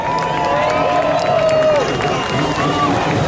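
A crowd cheers at the IJSBA World Finals personal watercraft freestyle event at Lake Havasu, near London Bridge. The steady roar of the crowd runs underneath an announcer's loud, continuous talk.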